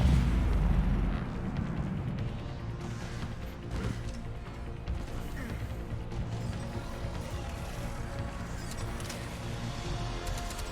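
A heavy explosion in Mass Effect opens with a deep, loud rumble that fades over a second or so into a steady background of mechanical clatter and ambient game noise, no voices present.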